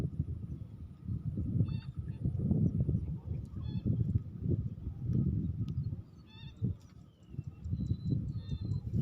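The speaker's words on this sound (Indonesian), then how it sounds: "Suaranya burung aneh itu." An unusual bird honks in short, goose-like calls at a fishing spot, the calls faint and intermittent over a steady low rumble of wind and background noise.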